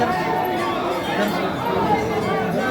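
Crowd of devotees at a temple of Lord Kartik during the Sawan month, a dense murmur of many nearby voices chattering together at moderate loudness.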